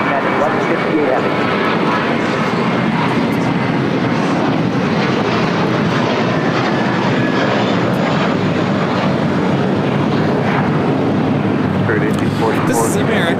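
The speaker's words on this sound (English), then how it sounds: "2746 taking off to Dallas Fort Worth on an A321" American Airlines Airbus A321 departing LAX bound for Dallas Fort Worth: a loud, steady jet engine roar fills the whole stretch without letup, with no talk.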